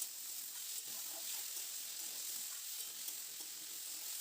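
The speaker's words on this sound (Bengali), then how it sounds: "তো পেঁয়াজটা দিয়ে আলুর সঙ্গে আরও কয়েক মিনিট নাড়াচাড়া করে একটু ভেজে নেব" Potatoes and onion frying in a pan give a continuous soft sizzle and hiss, with faint stirring scrapes now and then, no voices present.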